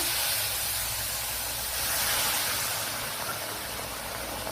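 Water poured into a hot pan of vegetables and green peas for hakka noodles biryani gives a soft, steady hiss lasting several seconds, fairly quiet, with no talking.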